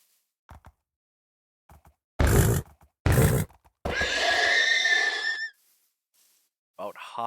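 Horses in a Minecraft-style survival video game give two short loud neighs followed by a longer whinny, with a few faint clicks and a brief voice near the end.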